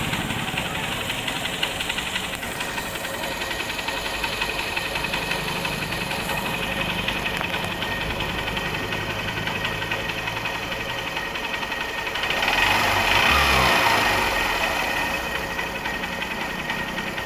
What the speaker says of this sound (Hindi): तो ये बाइक अभी स्टार्ट है और इंजन का साउंड बिल्कुल ध्यान से सुन सकते हैं